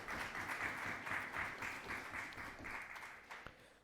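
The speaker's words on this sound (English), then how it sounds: "I think you need to give them a round of applause." Audience at a youth and senior assembly debate in Tobago gives the debaters a round of applause, a fairly faint, steady patter of clapping heard from a distance.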